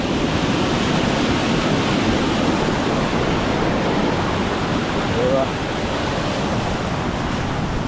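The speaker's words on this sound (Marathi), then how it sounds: "हे बघा पर्याचं पाणी बघा किती वर येते" A swollen river rushes in heavy monsoon rain, a loud continuous roar of turbulent water close by, steady throughout with no talk.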